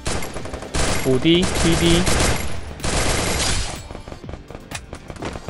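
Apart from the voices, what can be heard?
MP40 submachine gun firing rapidly in video game Free Fire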